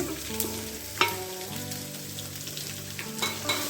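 Chopped onion and five or six crushed garlic cloves fry in a hot pan with a steady close sizzle, broken by a few sharp scraping clinks of a stirring utensil, no voices.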